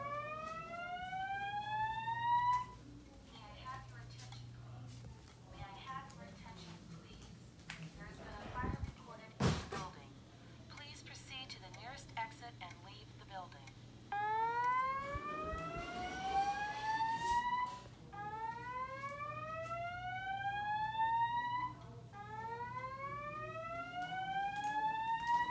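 A fire alarm voice evacuation system under test sounds repeated rising whoop tones in bursts, with a steady low hum between them and a sharp knock partway through; voices speak faintly in the room.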